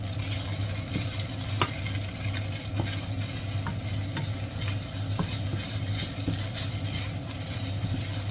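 American fried rice being stir-fried in a pan with soy sauce and seasonings: a dense, continuous sizzle with repeated scraping and clattering strokes of a spatula, up close and without any talking.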